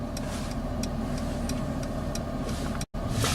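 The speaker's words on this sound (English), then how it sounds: "And then it's continuing the automatic parking out." A 2018 Mercedes-Benz S-Class pulls out of a parking space on its own with Active Parking Assist, a low steady engine hum under faint repeated ticking and cabin noise.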